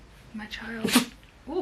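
A single sharp sneeze bursts out once, close and fairly loud, amid a person's affectionate talk.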